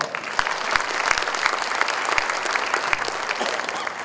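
Delegates and mayors at the Asia Africa Smart City Summit 2015 opening in Bandung clap warmly for the city's mayor, a full, steady patter of applause with a few sharp individual claps standing out nearby.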